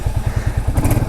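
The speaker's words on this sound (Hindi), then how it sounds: "हंटर 350 को चलाते हैं। इसमें स्टार्ट करने का कुछ ऐसा है," Hunter 350 motorcycle engine firing up, its single-cylinder exhaust thumping in a quick, even loud pulse close by, with a brief clatter as it settles, no talking.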